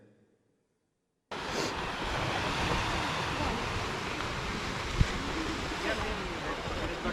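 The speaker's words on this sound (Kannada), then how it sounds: "ಅಲೆಗಳ ಸದ್ದು" Waves roll onto a pebble beach in Goa, a steady loud wash of surf and wind rushing that starts abruptly after a second of near silence and continues unbroken.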